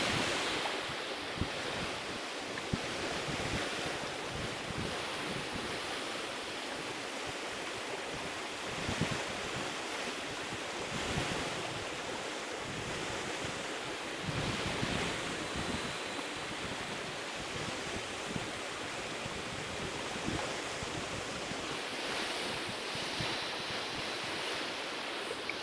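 Silver Falls waterfall in an Oregon forest, a constant distant roar of falling white water with soft wind gusts, steady and moderately faint, no talking.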